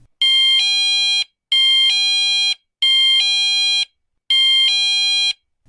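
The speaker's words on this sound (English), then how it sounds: "Chime is a loud beeping sound which repeats itself 4 times." A motion sensor receiver on its chime setting gives four loud, bright two-tone electronic beeps, each about a second long with short even gaps between them, clean and close.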